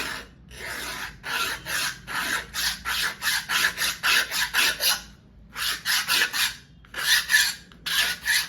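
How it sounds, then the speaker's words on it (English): A palette knife scrapes and rubs acrylic paint across a palette in quick repeated rasping strokes, close and fairly loud, with short pauses between bursts and no talking. "And now I'm gonna mix these three colors."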